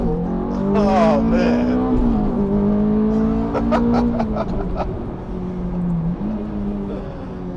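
Ferrari F430 Berlinetta F1 coupe engine revving loudly from inside the car, a strong steady drone climbing and settling as it accelerates, with a short exclamation and a laugh from occupants over it.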